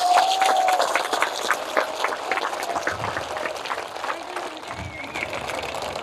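A crowd at an outdoor political rally in a Haryana village claps, with uneven, scattered hand claps at moderate volume and a voice and some crowd murmur running over them.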